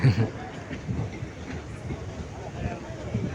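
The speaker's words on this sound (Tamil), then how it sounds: "கரெக்டாக இருபத்தி ரெண்டு பாக்ஸ் இருக்குங்க செம்ம பெரிய ட்ரெயின்" A large 22-coach express train on the Karur to Bangalore route rolls past with a steady low rumble and rhythmic wheel clatter throughout, fairly loud and continuous, with faint voices mixed in.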